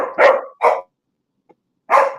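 A dog barks three times: two quick barks, a pause, then a final bark, loud and close, with no talking.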